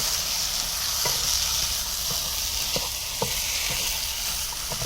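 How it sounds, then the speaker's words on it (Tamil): Drumsticks and vegetables stir-fried in a pan for cowpea kuzhambu crackle in a steady close sizzle, punctuated by light ladle taps and scrapes at irregular intervals. "எல்லாத்தையும் சேர்த்து நல்லா பரட்டிக்கலாம்"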